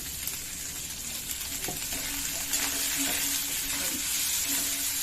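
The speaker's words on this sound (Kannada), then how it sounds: "ಕ್ಯಾಪ್ಸಿಕಮ್ ಚೆನ್ನಾಗಿ ಫ್ರೈ ಆಗ್ಬಿಟ್ಟಿದೆ, ಸ್ವಲ್ಪ ಮೆತ್ತಗಾಗುತ್ತದೆ ಕ್ಯಾಪ್ಸಿಕಮ್" Capsicum frying for instant capsicum rice, a steady bright sizzle filling the pan with faint scraping and stirring running through it, close and continuous with no talk.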